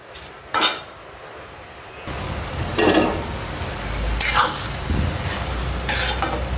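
Papaya curry sautéing in a pan, with a spoon scraping and stirring in repeated strokes over a steady close sizzle of frying.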